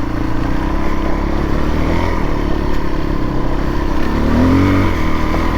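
A Suzuki DR-Z 400 trail motorcycle riding through snow, its steady engine drone close and loud with a brief rev near the end, no talking.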